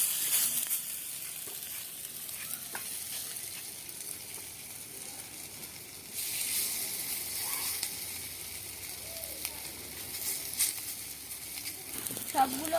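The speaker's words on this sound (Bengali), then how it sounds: "একই তেলে কিন্তু একই কড়াইতে উস্তে পাতার বড়াটা ভেজে নেব।" Bitter gourd leaf fritters frying in hot oil in a wok, a steady close crackling sizzle running throughout with occasional utensil knocks, and faint voices in the background.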